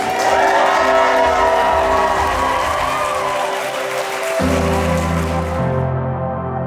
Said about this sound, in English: Can we have a big, massive cheer and a huge round of applause for your bride and groom, Mr. and Mrs. Daniel and Amelia Elphick.